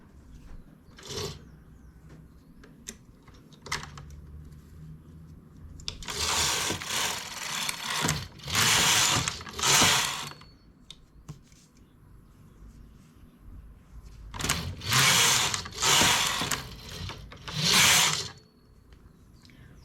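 Domestic knitting machine working a reversible knit-and-purl hat, its carriage making long rhythmic whirring passes in several bursts, loud and close, with quieter clicks and handling pauses between runs.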